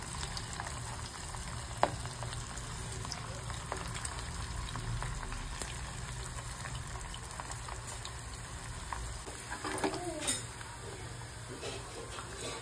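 Fritters fry in hot oil with a continuous, close sizzle and bubbling. A few light utensil clinks come near the end, and no speech is heard.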